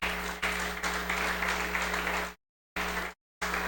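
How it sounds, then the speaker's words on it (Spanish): Congregation applauding during a Spanish-language church service, a dense, steady wash of clapping that cuts out abruptly twice near the end before resuming. "Denle el aplauso al Señor."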